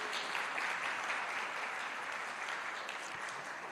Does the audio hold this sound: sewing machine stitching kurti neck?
no